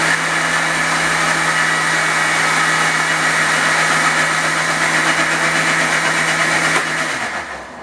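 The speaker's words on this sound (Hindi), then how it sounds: "मिक्सी में डाल के पीसेंगे।" A kitchen mixer grinder blending cooled homemade tomato puree runs loud and steady as a constant motor whine, then winds down and stops near the end.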